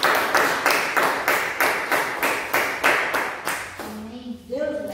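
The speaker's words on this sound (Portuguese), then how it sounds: "Uma salva de palmas ao Senhor." Congregation at a church Bible school clapping together in a steady, evenly spaced rhythm, about a dozen sharp claps, before a voice begins speaking near the end.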